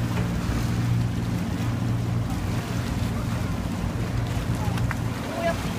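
A water taxi motors along a canal in Venice, its steady engine and water wash forming a continuous close rumble with wind noise throughout.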